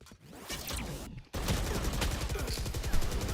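A weapon sprayed in Valorant during a pro match: a rapid, loud, sustained stream of shots begins after a short stretch of game noise and carries on continuously to the end.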